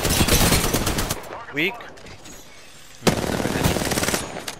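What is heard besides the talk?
gunfire in a video game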